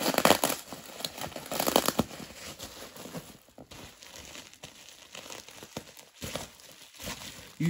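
Tight packaging is pulled open, with close, irregular crinkling and rustling of plastic, louder bursts early on, then softer crackles and tugs.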